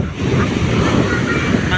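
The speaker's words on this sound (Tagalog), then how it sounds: "Grabe ang alon, no?" Ocean surf at Siargao rolls in as a broad, roaring wash of breaking waves, with wind buffeting the microphone loudly throughout.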